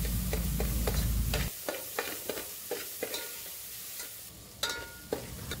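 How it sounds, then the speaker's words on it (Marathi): Spices, turmeric and chopped tomatoes being stirred in a hot pan, a spoon scraping and clacking in repeated strokes over a steady sizzle, with the frying noise dropping lower after the first second. "आता चांगलं मिक्स करून घ्यायचं आहे टोमॅटो मऊ होईपर्यंत"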